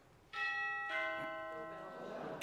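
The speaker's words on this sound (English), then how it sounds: "Doorbell." A doorbell sound effect plays a clear ding-dong: two bright, ringing tones struck about half a second apart, each decaying slowly into a soft, lingering hum, heard alone at moderate volume.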